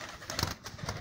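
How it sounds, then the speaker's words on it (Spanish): A pigeon-like bird trapped inside a house gives soft repeated cooing calls, close by and fairly faint, over a light indoor background. "¿Qué será que se meten los pájaros acá?"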